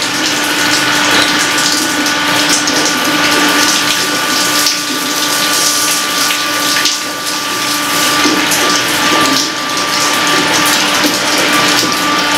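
Water runs steadily from a tap in a Colombian motel room, a loud continuous gushing with a pump-like hum beneath it, close and uninterrupted, with no voices.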